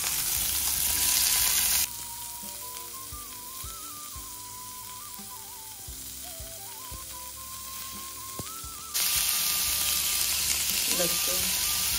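Tomato and onion sizzle in a hot pan, first loud, then quieter under a steady tonal hum, then loud again with some stirring clicks.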